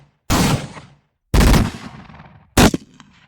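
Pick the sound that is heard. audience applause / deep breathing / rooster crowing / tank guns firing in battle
tank guns firing in battle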